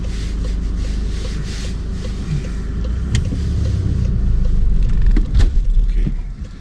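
A car pulling away from a stop during a driving lesson, its close engine rumble steady and then swelling louder toward the end, with a brief whine mixed in and no talking.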